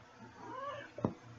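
A pet cat meows indoors, a drawn-out rising and falling call up close, followed by a sharper short burst near the end with a low room hum underneath.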